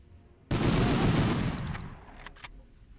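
Gunfire in the Medal of Honor video game: one loud burst of shots breaks out suddenly and rumbles on, then fades into a couple of faint distant cracks.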